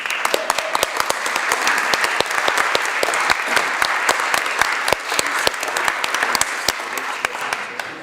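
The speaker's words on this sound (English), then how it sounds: "would you like to stand up and we can all give you applause?" A council chamber audience applauds at a council meeting: a sustained round of scattered, crisp handclaps at moderate volume, with no talking over it.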